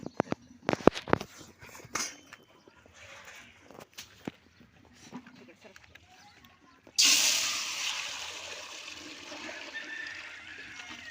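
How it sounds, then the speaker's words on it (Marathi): Scattered clicks and clatter give way to a sudden rush of water pouring into a pot with oil on the stove, loud and continuous before gradually easing. "आता मी पाणी टाकून घेते"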